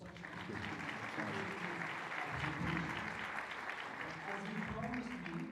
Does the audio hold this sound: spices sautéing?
no